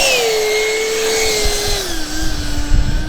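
A Durafly D.H.100 Vampire V2 model jet with an older 70mm electric ducted fan power system taxis outdoors with a loud continuous whine. The whine drifts slowly down in pitch over a rushing airflow roar.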